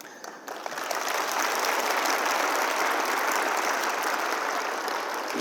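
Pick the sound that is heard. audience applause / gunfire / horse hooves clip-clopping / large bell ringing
audience applause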